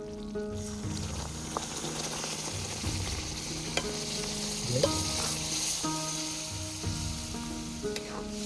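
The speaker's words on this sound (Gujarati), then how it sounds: "આપણે સોજી કમ્પ્લીટ ઘીમાં ચડી જાય તો આપણે દૂધ એડ કરી દઈએ ગરમ." Semolina cooked in ghee for sooji shiro sizzles and fries steadily in a pan, with stirring scrapes and faint clinks throughout; no talking.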